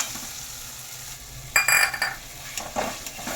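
Spoon stirring mixed vegetable paneer masala in a pan, a soft sizzle under a few scraping, clinking strokes against the metal, close up with no talk.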